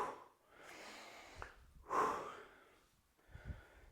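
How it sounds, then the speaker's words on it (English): During a low-impact beginner gym workout, a person breathes hard, with several sharp snort-like exhales and gasps coming in uneven bursts, close and fairly quiet. "Get into the breathing routine of exhale on exertion."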